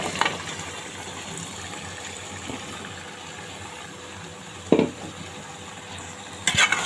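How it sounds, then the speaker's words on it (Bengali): Cubed potatoes and beef liver are stirred in a pan of cooked-down spices, a low steady sizzle with a few scraping strokes and clinks of the spoon against the pan, close and without talking. "ভালোভাবে নেড়ে দিই।"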